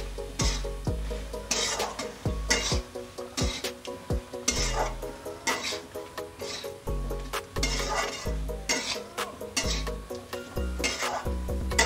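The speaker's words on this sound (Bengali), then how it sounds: "ভেজে রাখা আলু পটল দিয়ে দিলাম, একটু ভালো করে কষিয়ে নেব" Fried potatoes and pointed gourd sautéing in a spice paste, with steady spatula scraping and stirring strokes against the pan, metal clinks and a soft sizzle underneath, close and continuous, with no talking.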